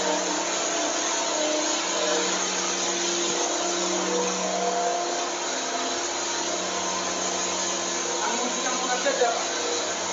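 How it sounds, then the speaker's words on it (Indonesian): A mixer machine hums with a steady, dense mechanical whir while blending broiler chicken feed with rice bran, running continuously and loud throughout, with faint voices talking beneath it. "Iya, langsung nyampurnya pakai itu, Pak. Hah? Nyampurnya pakai mixer."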